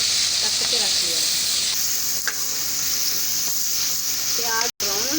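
Chopped onion sizzles steadily in hot oil for a keema turnip curry, a loud continuous hiss with a few stirring scrapes and brief voice sounds, cutting out for a moment near the end.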